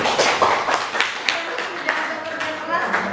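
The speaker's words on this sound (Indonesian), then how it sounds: "Maka silakan kita beri aplaus untuk diri kita masing-masing." A classroom of students gives itself a round of applause, a short burst of scattered clapping with irregular sharp claps, heard while a voice talks over it.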